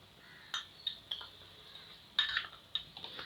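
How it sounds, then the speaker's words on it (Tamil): Chicken is mixed with turmeric, chilli powder, black pepper and salt in a bowl for pepper chicken gravy, giving soft intermittent clinks and scrapes of a utensil against the bowl, fairly quiet with no talking. "எல்லாத்தையும் சேர்த்து நல்லா மிக்ஸ் பண்ணி விட்டுக்குங்க"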